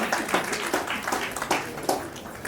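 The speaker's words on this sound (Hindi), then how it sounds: "इनके लिए जोरदार तालियां बजाइए यार" Hand clapping from a crowd at a haldi ceremony, a loose irregular patter of claps over roughly two and a half seconds, moderately loud.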